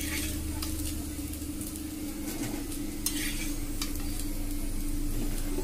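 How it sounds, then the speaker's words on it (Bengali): Taro (kochu) pieces fry in a pan and are stirred, a continuous close sizzle with a low steady hum underneath and scattered sharp scrapes and clinks of the utensil against the metal. "ব্রাউন কালার করে আমি কচুগুলোকে ভেজে নামিয়ে নেব"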